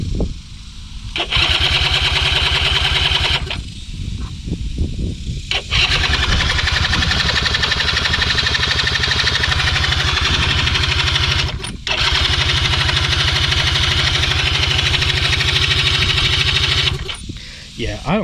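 A small gravity-fed premix gas engine cranks, catches and runs, a loud close buzzing drone that cuts out and restarts several times, with brief pauses between attempts.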